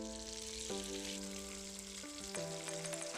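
Fish fries in hot oil with a constant, even sizzle and crackle, while background music with sustained tones plays throughout.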